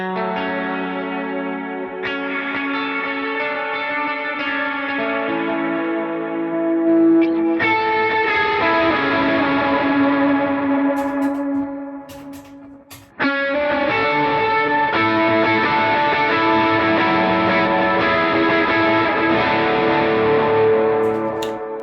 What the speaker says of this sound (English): for big lead, you can turn that reverb on.